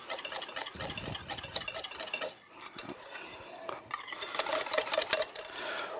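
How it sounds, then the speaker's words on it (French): A whisk beats waffle batter with egg in a bowl, rapid close metallic clicking and scraping strokes, briefly pausing mid-way before resuming with louder, quicker rattling. "On va bien fouetter jusqu'à obtenir un mélange bien lisse"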